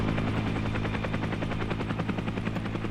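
Steady, close helicopter rotor chop fills the scene in Arma 3, a rapid rhythmic thumping over a constant engine whine with no voices.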